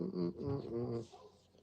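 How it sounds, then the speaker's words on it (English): Dogs outside bark and yelp in a quick, faint burst of several calls, muffled by distance. "Dogs are carrying on out there."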